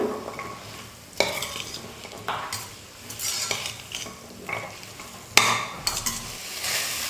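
Masala for a vegetable kurma sizzles in a pan over a medium flame while a spoon stirs and scrapes it, with periodic louder clinks of metal against the pan and no talking.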